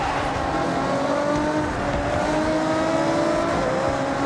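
Race cars driving in Forza Horizon 6, a loud, sustained engine drone with rising and falling rev tones as several cars run close by, steady throughout with no speech.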